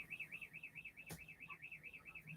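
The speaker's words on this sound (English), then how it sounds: "There is an alarm going on outside." An alarm warbles outside in a steady repeating up-and-down siren pattern, faint and distant, with a brief sharp knock partway through.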